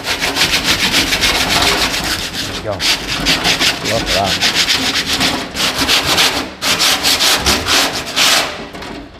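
Close, loud rhythmic sanding of wood, rough strokes rasping back and forth in a steady pattern, with someone briefly talking between strokes.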